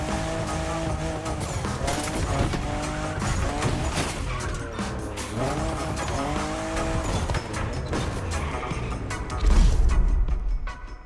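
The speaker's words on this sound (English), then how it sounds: "you'll be making some curves with the Lamborghini Murcielago" Lamborghini Murcielago drifting in a racing video game, loud engine revving with repeated rising and falling tire squeals through the curves, ending in a brief crash-like thud.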